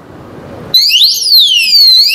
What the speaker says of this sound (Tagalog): Continuous alarm.